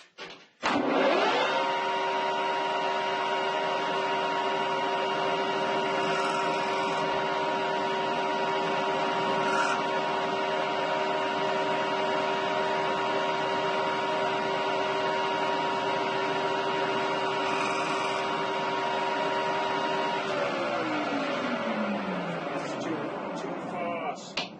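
Tool post grinder on a lathe spinning at 1200 RPM, a steady buzzing motor whine with strong overtones held for about twenty seconds, then sagging in pitch as it spools down.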